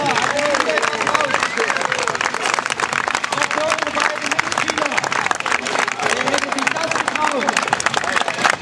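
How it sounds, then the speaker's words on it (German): Steady, dense applause from an audience at an artistic cycling show, where riders perform over benches, pallets, cars and people. The clapping fills the whole stretch with crowd murmur beneath it. "Applaus für die beiden Mitspieler!"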